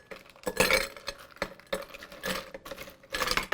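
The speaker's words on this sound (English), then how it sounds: "Fill with ice." Ice cubes clink and rattle as they are dropped into a large glass for a chai latte, arriving in several bursts of bright clattering close by, with no talking.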